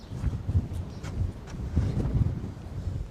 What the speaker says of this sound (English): It's freaking cold, windy, blowing.